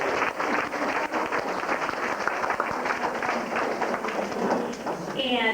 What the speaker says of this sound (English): Let's give those parents who were able to join us today an applause and thanks for all their support